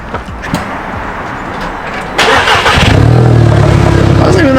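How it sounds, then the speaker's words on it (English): A VW GTI with an open downpipe cranks and fires up; a rough starter whir gives way to a loud, steady, choppy idle that fills the rest of the clip, close by. "You have to start the car open down pipe."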